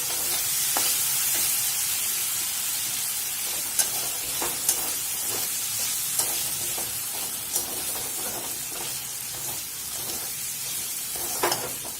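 About 150 grams of chicken for shawarma frying in its own released juices, a soft continuous sizzle in the pan broken by occasional clicks and scrapes of stirring, no voices.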